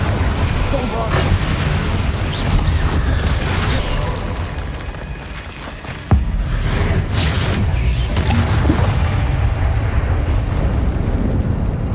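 Dense, loud Hogwarts Legacy combat with a Bombarda spell explosion, a sustained roaring rumble with a sharp booming hit midway, steady and close throughout, with game voices mixed in.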